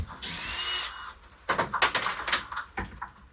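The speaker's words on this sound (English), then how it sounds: "I'm just going to whip them out now with the drill." A power drill whirs in short bursts backing screws out of a garage wall, first a longer spin then several quick choppy revs close by, with no talk.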